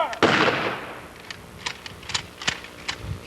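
A rifle volley fired as a memorial salute at a USS Utah memorial plaque dedication, one sharp loud crack with a lingering echo, followed by faint scattered clicks and a distant commanding voice.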